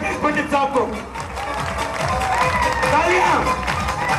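Audience applause welcoming speaker Satish Pandit at a guru-shishya tradition event, a dense, steady wash of clapping lasting throughout with a slight swell toward the end, voices faintly mixed in.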